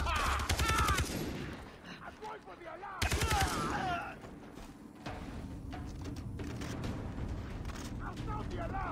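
Gunfire from Far Cry 3, played on an Xbox Series S, comes in two loud rapid bursts near the start and again around three seconds. Quieter scattered shots and game noise follow, with voices talking over parts of it.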